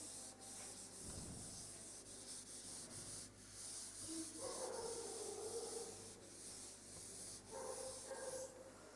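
Writing is rubbed off a classroom board in a steady, soft, dry scrubbing sound that comes in continuous strokes, faint and close, with no speech.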